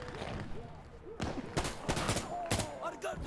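Gunfire in Insurgency Sandstorm, with several sharp shots and short bursts cracking out at irregular intervals over a busy game background, amid radio-style voices.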